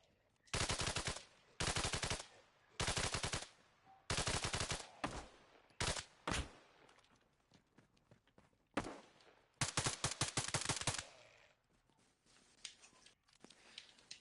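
Automatic gunfire in the Kolguyev video game, fired in repeated bursts of a second or so with short pauses between them, then fading into scattered quieter shots and clicks toward the end.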